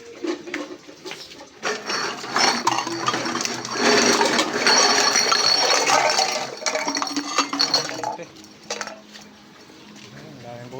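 Metal cans and a pot clatter and clink as they are sorted by hand from a pile of scrap junk, a busy jangle of tins knocking together, close by and continuous before easing off near the end.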